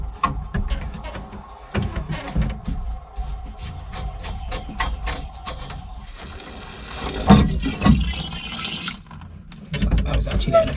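Water rushing through a faulty, fully open tap in a plumbing job, a steady broadband flow with splashing that swells louder midway, heard under occasional talk and handling noises.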